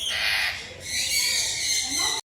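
A parrot at Dumas beach lets out harsh, rasping squawks across most of the stretch, fairly close and loud over a steady outdoor background.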